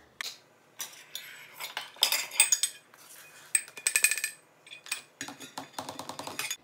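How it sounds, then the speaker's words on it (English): Clinks and scrapes of a metal measuring cup and utensils as 1/3 cup of cocoa powder goes in during keto chocolate cookie prep, a string of irregular, close, moderately loud taps and rattles with short pauses between. "So let me go ahead and add 1/3 cup of cocoa powder."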